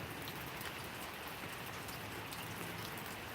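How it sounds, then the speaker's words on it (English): Steady rain falls in the morning as a dense, continuous hiss of drops, even and unbroken throughout, with no voices. "It's morning, it's raining."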